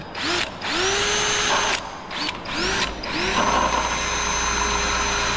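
A power drill whines loudly in several bursts, pitch rising as it spins up and bites into metal while an awning is installed, then runs steadily at the end.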